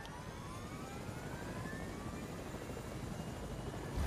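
Helicopter in the Fortnite video game, a steady whirring engine drone with a rising whine, constant and fairly loud throughout with no talk.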